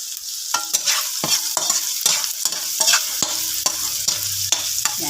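Onions, garlic and ginger sauté in a hot pan, with a constant bright sizzle broken by repeated sharp scrapes and clacks of a spatula stirring, close and loud, with no voices.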